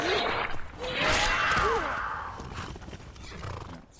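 A horse in the Skyrim video game gives a loud, close neigh, a rising then falling whinny lasting about a second, followed by softer breathy noise.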